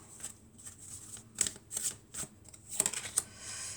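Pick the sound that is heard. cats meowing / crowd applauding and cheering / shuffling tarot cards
shuffling tarot cards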